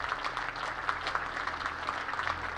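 Cricket crowd at the Bristol County Ground applauding as players walk off after a county match, a steady spread of clapping throughout with no voices.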